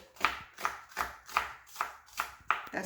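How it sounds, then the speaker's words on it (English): A knife chops through an onion on a cutting board for Ethiopian doro wat in a steady rhythm of about seven crisp, close thuds, evenly spaced around two per second, with no voices. "so we are cutting up this onion"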